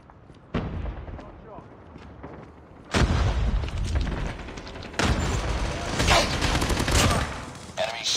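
Gunfire in the mobile shooter Call of Duty Mobile, with dense rapid bursts and booming shots that swell loud and continuous after a quieter start, with game voice callouts mixed in.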